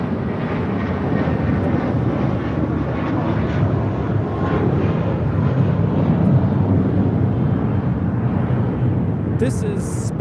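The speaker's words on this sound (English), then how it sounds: "This is KLM 602 taking off to Amsterdam on a 4-year-old 787-10 Dreamliner in the KLM 100 Years livery." A KLM Boeing 787-10 Dreamliner in 100 Years livery roars on its takeoff run at LAX, a dense, steady broadband engine rush that holds loud for the whole stretch.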